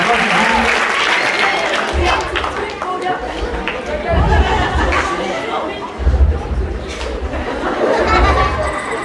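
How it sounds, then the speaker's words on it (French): Audience applause at a hypnosis stage show, steady clapping sustained throughout alongside crowd chatter and some laughter, with people talking over it. "Ah, on peut les applaudir."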